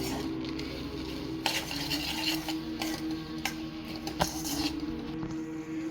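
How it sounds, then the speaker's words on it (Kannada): Jaggery syrup with roasted gram is stirred on a low flame, a soft continuous sizzle broken by the scrape and clink of a spoon against the pan. "ಇದು ತೆಳು ಪಾಕ ಮೆದು ಪಾಕ ಬರುವ ತನಕ ಇದನ್ನು ನಾವು ಕೈಯಾಡಿಸ್ತಾ ಇರಬೇಕು ಸಣ್ಣ ಉರಿಯಲ್ಲಿ"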